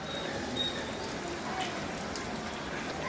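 Potato and semolina puri frying one at a time in oil heated to about 150 °C, giving a steady, dense sizzle and crackle that fills the clip without pause.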